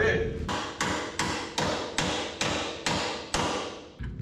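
Steady hammering on the metal body parts of a 1967 Pontiac Firebird, about eight sharp, ringing blows at an even pace, close and loud, with no voices.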